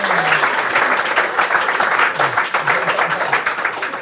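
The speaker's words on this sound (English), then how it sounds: "I give him the applause, please!" Live audience applauding throughout at a pub-style talk show, steady dense clapping close and loud, with some faint vocal noise mixed in.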